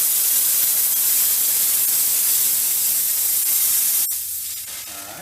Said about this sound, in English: you can see how much drier the steam is without the injection